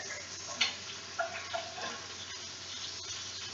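Shrimp with basil and red pepper sizzle softly in a pan, a quiet crackle with a few small pops and a faint background hum.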